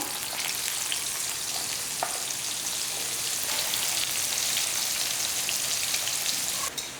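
Bitter gourd pieces frying in hot oil crackle and sizzle continuously, a dense, close hiss with scattered pops, no talking.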